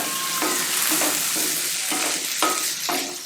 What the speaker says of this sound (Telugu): అవన్నీ కలిపి వేగుతాయి.